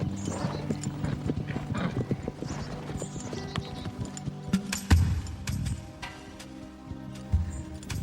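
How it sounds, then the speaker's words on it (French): Hooves clip-clop steadily on a hard surface, a horse walking nearby, with a few louder knocks and some rustling in the background. "voilà Diablo, avec un autre cheval"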